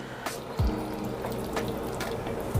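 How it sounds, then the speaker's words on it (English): Vegetable broth poured into a pot for vegan jackfruit birria consommé, a soft steady liquid stream with a couple of low thuds and clinks over faint kitchen noise. "let's add about 3 cups to 2 cups of vegetable or beef broth if you have"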